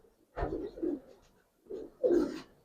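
Giribaz pigeons coo up close in two soft, throaty bursts of low rolling calls separated by a brief silence.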